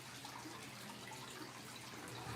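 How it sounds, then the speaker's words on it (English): Water bubbles steadily in a home aquarium set up in a living room, a soft continuous wash of fizzing and trickling, faint and unbroken with no voices. "You can hear the bubbling."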